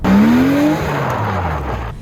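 A BMW M Roadster accelerates hard with its rear wheels sliding, the engine note climbing steadily up close and loud before easing off into a rougher rumble of tire and road noise.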